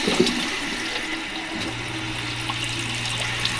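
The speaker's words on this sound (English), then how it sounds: "So I'm going to fill the sink up again" Water rushes steadily into a sink on a boat beside a marine head, a continuous close hiss and gurgle with no talking.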